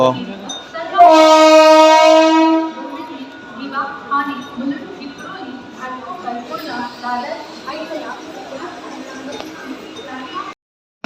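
A crowded passenger train rattles along with steady clanking and rumbling of the carriages, opening with a loud sustained horn blast, while people chatter nearby throughout.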